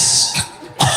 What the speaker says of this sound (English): that's a cough, that was a cough